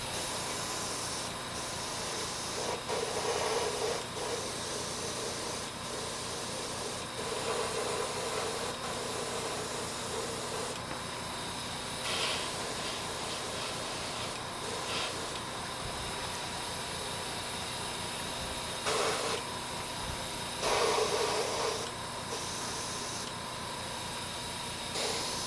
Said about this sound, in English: we're ready to spray down that color